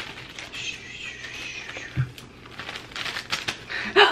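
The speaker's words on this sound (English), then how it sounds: "put it in a plastic bag and not let all of the air out of the plastic." A plastic bag crinkles and rustles close up in soft, intermittent bursts as an item is packed for shipping, with a few sharper crackles near the end.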